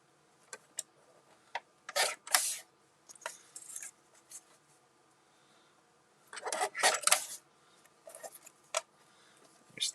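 Scissors snip through sheets of pattern paper for holiday crafts, cutting strips in short crisp bursts of crunching cuts separated by quiet pauses, close and fairly soft.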